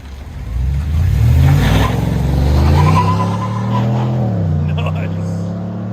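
A Chevrolet/GMC High Country truck's 6.2-liter V8 rumbles deeply and swells as it is revved, its low tone climbing and dipping, with people talking in the background.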